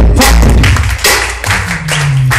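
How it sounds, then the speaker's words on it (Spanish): A church congregation claps in praise, heavy rhythmic thumping hand claps repeating loudly and close over music with a low bass line. "Aplaudan para el Señor."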